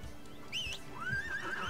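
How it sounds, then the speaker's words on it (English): A horse in the video game ArcheAge gives a short, thin whinny with rising and falling tones over a steady low background hum. "Okay, I'm getting off the horse."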